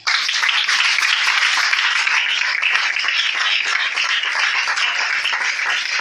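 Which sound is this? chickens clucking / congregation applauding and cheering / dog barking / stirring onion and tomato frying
congregation applauding and cheering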